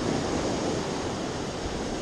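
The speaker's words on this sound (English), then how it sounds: "when it's rainy like this and the waves are still manageable" Ocean surf and wind roar steadily at a beach in rainy, cold weather, a dense, continuous wash of noise with no distinct breaks.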